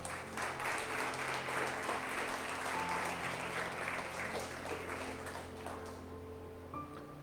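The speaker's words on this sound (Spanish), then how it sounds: "Yo le daría palmas al Señor." Church congregation applauding the Lord during a Spanish-language sermon, a dense, sustained wash of many hands clapping that stays loud for several seconds, then thins and fades slightly toward the end.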